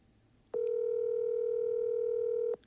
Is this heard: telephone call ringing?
yes